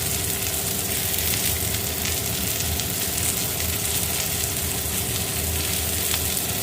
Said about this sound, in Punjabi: ਇਹ ਨੂਰ ਨੇ ਪਾਤਾ ਨਮਕ ਹੁਣ ਫਿਰ ਭੁੰਨੇਗੀ ਇਹਨੂੰ